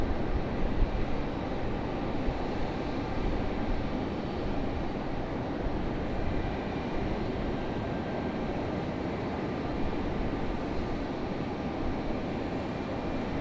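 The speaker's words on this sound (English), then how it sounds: "737 from American getting a move on" American Airlines Boeing 737 jet taxiing between the runways at Raleigh Durham airport, a steady broad engine rumble and whine holding constant, moderately distant, with no talk.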